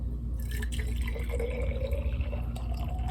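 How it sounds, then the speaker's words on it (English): Warm water filling a jar or plastic Frappuccino container, a steady close trickle with faint dripping and a low hum beneath, continuous throughout. "And in the other, I'm going to fill up with warm water"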